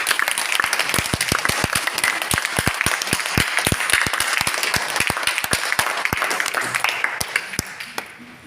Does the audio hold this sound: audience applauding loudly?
yes